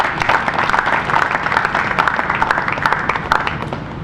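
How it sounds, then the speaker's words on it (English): An audience at a COVID-19 vaccination launch ceremony in Abuja claps for health workers, a steady, fairly close burst of applause sustained throughout without speech. "they deserve even a bigger round of applause"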